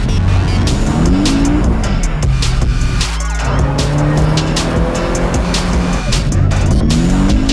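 A Porsche driven hard with handbrake turns, engine revving high and shifting pitch while tires squeal and skid through repeated slides, loud and close throughout.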